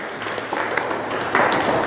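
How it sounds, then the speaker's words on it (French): Applause for trainees at a four-week diesel engine diagnostic course for mechanics, a short burst of clapping from a small group that swells slightly near the end. "Applaudissez également à Monsieur Chimsdine"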